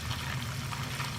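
Onions frying in oil until golden brown, a steady soft sizzle and bubbling that holds at an even level throughout with no talk.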